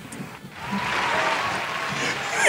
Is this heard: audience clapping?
yes